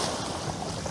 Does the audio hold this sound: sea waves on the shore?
yes